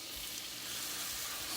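Steaks seasoned and marinated in Worcestershire sauce sear in a skillet, a soft, even sizzle lasting briefly, with no talk.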